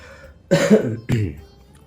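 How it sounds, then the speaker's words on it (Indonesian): Two short coughs after eating, the first a rough double burst and the second a brief hack half a second later, close to the microphone in a quiet room. "Habis makan jadi batuk-batuk dikit dulu."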